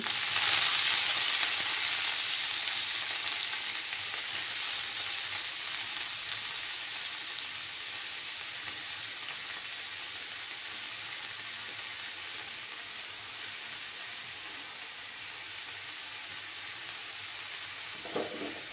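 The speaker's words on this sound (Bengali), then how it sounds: "এবার আমি শাকগুলো দিয়ে দিচ্ছি।" Red spinach (lal saag) sizzles in a hot pan with a dense, even hiss that holds steady and slowly softens, and a brief clatter near the end.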